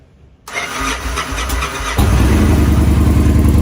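A brief whir from a starter, then a motorcycle engine catches and settles into a loud, steady, close-up idle rumble.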